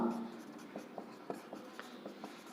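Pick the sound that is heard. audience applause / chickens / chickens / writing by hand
writing by hand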